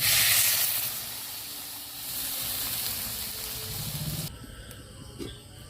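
Water poured into a hot pan of fish curry with potatoes and carrots, bursting into a loud sizzling hiss that settles to a steady bubbling simmer before cutting off near the end.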